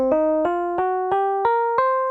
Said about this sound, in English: but a blues scale sounds like this.